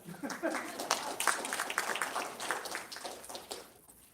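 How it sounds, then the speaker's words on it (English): Audience applause rings out at an awards ceremony, a moderate patter of individual claps that rises and falls without stopping. "Please, again, give Kevin, Yul, and Ryan another round of applause"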